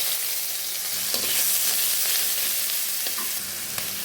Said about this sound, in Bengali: দিয়ে দিচ্ছি পেঁয়াজ